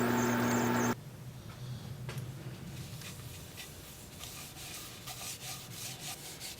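Sanding of a spalted maple turned bowl, working from 80 up to 400 grit: a steady, close, soft rubbing wash that runs continuously after a brief louder hum at the start, with faint higher scratchy streaks.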